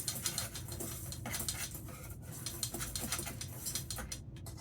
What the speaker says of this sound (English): whisk that together